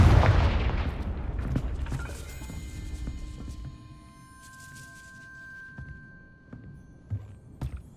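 Confringo blast spell in Hogwarts Legacy, a loud booming impact up front that rumbles and fades over several seconds, trailed by faint ringing tones and a few scattered thuds, no talk.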